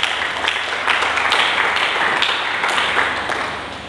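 A church congregation claps during a sermon, a brief burst of mixed hand claps with some distinct sharp strikes, fading toward the end.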